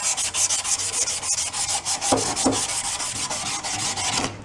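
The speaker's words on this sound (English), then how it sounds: "Let's see if a little sandpaper on the backside" Sandpaper is rubbed back and forth over a VW bus transmission part in steady, rhythmic rasping strokes, loud and close, with a couple of sharper scrapes partway through and no speech.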